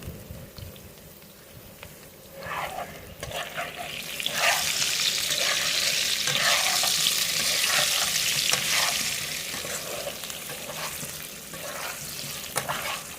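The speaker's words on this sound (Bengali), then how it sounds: "আলুগুলোকে সুন্দর করে কষাতে হবে যাতে আলুগুলো পুরোপুরি সিদ্ধ হয়ে যায় কষানোর সময়" Potatoes fry with turmeric and salt for a light katla fish curry, giving a steady close sizzle, with scraping stirs that grow louder in the middle before the sound settles.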